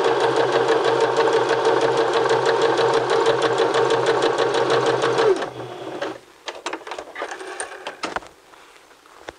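A sewing machine runs a narrow zigzag stitch at width 1 through fabric with a fast, steady mechanical whir, loud and close, then stops abruptly, leaving faint handling clicks and rustles.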